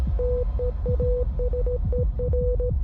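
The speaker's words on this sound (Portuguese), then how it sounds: "No segundo teaser, a gente escuta um código Morse ao fundo" Morse code beeping from a mysterious series teaser, short and long steady tones in an irregular rhythm over a low rumbling background.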